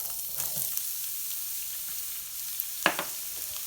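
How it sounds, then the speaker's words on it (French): Fennel is poured into hot oil and sets off a steady, close sizzle with a sharper crackling burst partway through, then keeps frying softly. "mon huile est chaude. Alors je vais verser mes fenouils"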